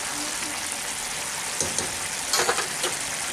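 Spice paste for a potato korma fries in a pan with a soft, continuous sizzle, punctuated by a few brief stirring scrapes and crackles.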